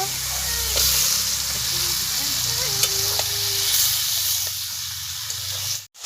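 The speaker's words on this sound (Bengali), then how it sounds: "এবারে আমি মাংসটা ঢেলে দেব" Chicken pieces sizzle and hiss steadily after going into a pan of cooked spice masala for a village-style curry, with a few faint clinks over the constant frying noise.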